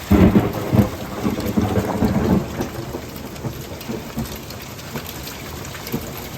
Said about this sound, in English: We got rain, wind, and now hail the size of nickels.